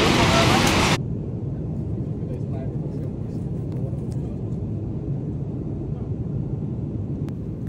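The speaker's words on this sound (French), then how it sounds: "Me voici dans l'avion" An airplane cabin in flight: a steady, low, broadband drone fills the space after a brief louder burst at the start and continues evenly to the end.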